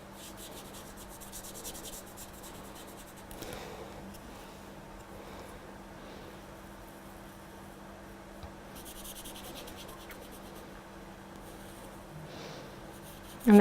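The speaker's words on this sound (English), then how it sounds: "I coloured in with my black pen the pencil line" A black pen colouring in a pencil line, a faint close scratchy rubbing of nib on paper in short strokes under a low steady hum, with a few pauses and no talk.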